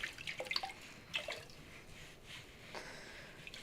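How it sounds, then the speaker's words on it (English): Hands are rinsed under a running tap, with soft splashing and dripping bursts of water, close and quiet, fading into a faint trickle. "We'll rinse our hands here."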